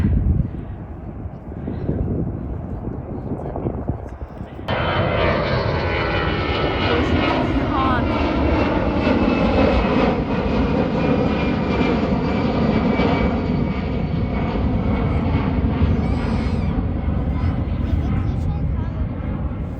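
An airplane takes off near the Munich airport viewing platform, its engine roar rising suddenly into a loud, sustained rumbling whine that slowly shifts in pitch as it passes at a distance. Voices talk throughout, with wind buffeting the microphone.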